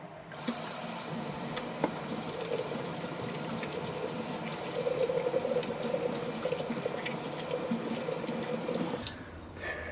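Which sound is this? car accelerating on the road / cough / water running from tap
water running from tap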